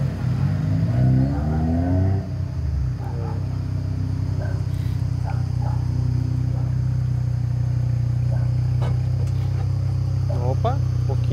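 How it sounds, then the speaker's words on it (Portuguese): A VW Jetta 2.5 fitted with a cold air intake drives off on a street, with a steady engine hum and a rising rev. Voices talk briefly at the start and a few faint chirps come through. "agora ele vai sair pra testar o carro"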